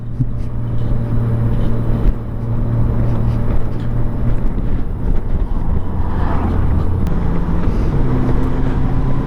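A Honda GL1500 Goldwing motorcycle riding just after a carburetor rebuild: a steady, close engine drone with low harmonic hum, mixed with continuous wind buffeting throughout.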